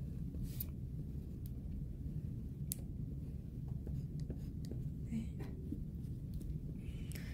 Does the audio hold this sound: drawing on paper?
yes